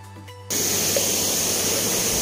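Rushing water at Kundah waterfall in the Nilgiris comes in abruptly after a quieter opening, then holds as a loud, dense, unbroken roar close at hand.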